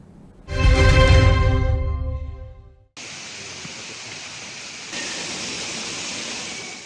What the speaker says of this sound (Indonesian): Salah satunya adalah air terjun Widuri di Kabupaten Grobogan, Jawa Tengah.